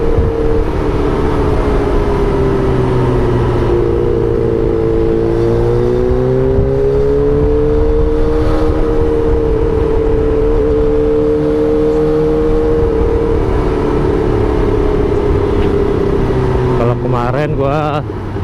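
Kawasaki ZX25R motorcycle fitted with a ProSpeed Shark aftermarket exhaust, its engine droning steadily and rising and falling in pitch through gentle revs, loud and continuous from start to finish.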